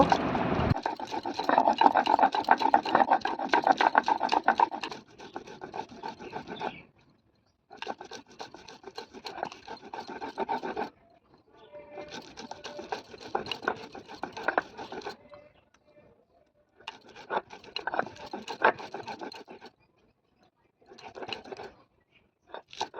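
Mustard seeds, ginger and green chillies ground into paste on a rooftop, a coarse rhythmic rasping and rubbing of stone in repeated bursts of several seconds separated by short pauses, close and fairly quiet.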